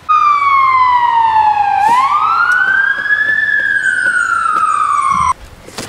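A loud wailing emergency siren sweeping down and up in pitch, close by, then cutting off abruptly.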